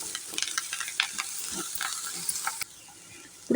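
Sliced onions and green chillies with turmeric sizzle softly in a pan for a cucumber and onion curry, with scraping stirring strokes over a steady fry, then a brief quieter pause before a clatter.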